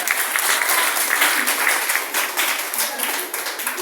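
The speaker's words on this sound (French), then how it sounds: "Applaudissez pour ça, pour vous." Wedding guests give a steady burst of clapping, dense and fairly close, sustained for several seconds without a break.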